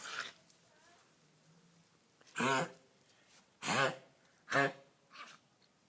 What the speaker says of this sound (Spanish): Tienes tos.